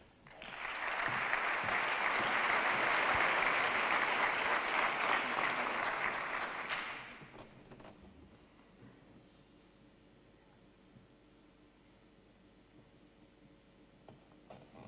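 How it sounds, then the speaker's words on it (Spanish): An audience at an institutional opening of a business commerce meeting gives a speaker warm, full applause lasting several seconds before it fades abruptly into quiet room tone. "Un aplauso para él"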